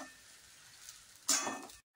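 Brief sizzle of fasting khichdi being sautéed in ghee in a pan, a soft frying hiss that swells sharply for a moment then cuts off, with no talk.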